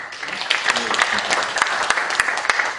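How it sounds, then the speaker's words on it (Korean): Audience applause greets a speaker being introduced at a symposium at the National Assembly, a dense wash of many hands clapping steadily for a few seconds, with a few sharper individual claps standing out. "박수로."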